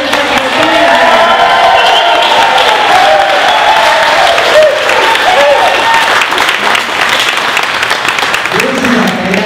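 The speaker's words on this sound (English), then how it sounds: "Big round of applause." Loud sustained applause and cheering from an audience at a Corvette Dream Giveaway award ceremony in Clearwater, Florida, a dense continuous clapping crowd with scattered whoops throughout.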